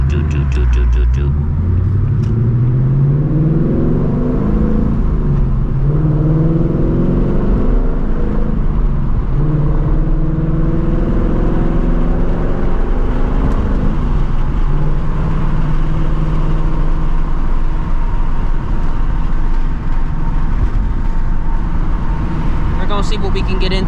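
Tuned S650 Mustang GT V8 running on E85, a loud, close, rumbling exhaust burbling and revving steadily throughout, with pitch rising and falling.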